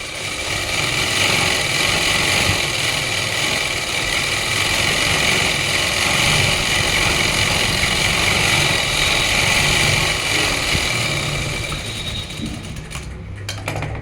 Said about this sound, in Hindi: मैं इसमें छोटी सिंपल सिलाई मार कर दिखाऊंगी आपने, देखो ऐसे।